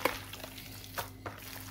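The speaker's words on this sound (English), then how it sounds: "mixing it like this so that the ingredients will go in" Suya meat being mixed by hand with spice ingredients makes soft, brief rustling and stirring noises, faint and close, with a few light scrapes over a quiet background.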